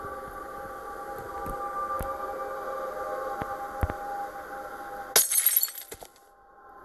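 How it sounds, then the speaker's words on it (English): A glass window shatters in a video game with one sharp crash and a brief tinkling spray, followed by near silence. Before the crash, a steady game hum plays under scattered soft clicks. "See, I broke his window."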